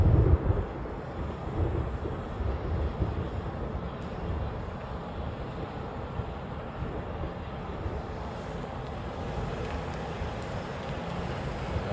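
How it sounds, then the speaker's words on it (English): A KC-135 tanker aircraft taxiing toward the reef runway at the Hawaii airport, a steady, moderately distant jet rumble and roar that holds evenly throughout, with a touch of wind noise and no talking. "That was a tanker heading out to the reef runway as well. A KC-135"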